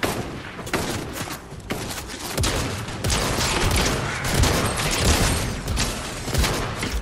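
Dense, sustained gunfire from a shooter video game as players shoot at bots, rapid overlapping shots and booms packed close together throughout, loud and continuous with no pauses.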